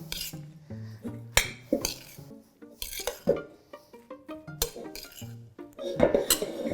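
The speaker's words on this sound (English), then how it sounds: "just kind of give that egg a little smush before you start to mix it up" An egg gets smushed and beaten in a bowl for curried squash latkes, with brisk clinks and scrapes of a utensil against the bowl in an uneven rhythm, close and fairly loud, with no voices.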